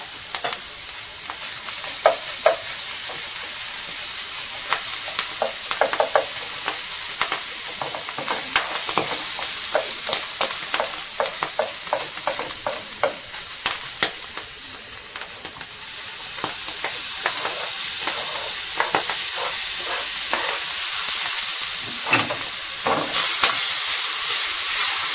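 Steady loud sizzling of pasta ingredients frying in a very hot pan, with repeated scraping and clacking of a utensil stirring throughout, no voices.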